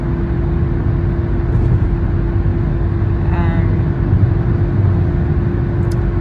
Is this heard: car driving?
yes